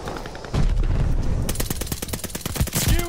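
Rapid automatic gunfire from an MP-40 submachine gun in a video game: dense, loud bursts of closely spaced shots that break out after a brief rumbling lead-in and carry on to the end, with no talking.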